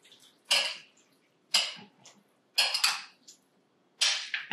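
Chopped onions are tossed and stirred together in a bowl, with four short, sharp scraping and clattering bursts separated by quiet gaps, close by and without any talk.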